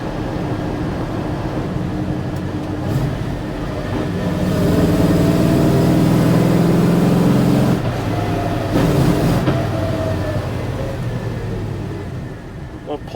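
A vehicle powered by a Holley-carbureted Magnum 5.9L V8 pulls uphill in third gear, its loud, steady engine drone rising in the middle and holding under road noise, with a voice talking over it.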